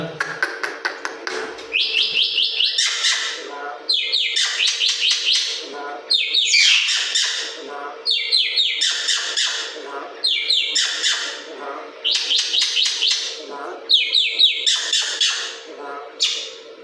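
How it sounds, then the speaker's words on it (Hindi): A myna bird calls repeatedly and close by, giving bursts of squawks and chirps in a steady rhythm over a faint steady hum. "दोस्तों देख लिया हमारी मैना?"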